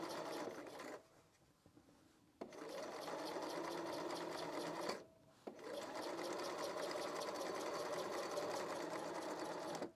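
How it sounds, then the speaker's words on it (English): A sewing machine stitches a stretch velvet dress with a steady, fast mechanical chatter, running in long continuous stretches broken by two short pauses. "And now I'm going to go sew it."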